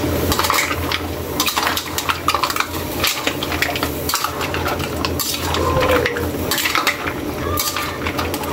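Pancit canton noodles and vegetables being stirred in a pan, with a steady clatter of a utensil scraping and tapping the metal, continuous and close, with faint sizzling underneath and no talking.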